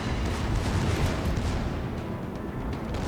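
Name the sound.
warship secondary guns firing in a naval video game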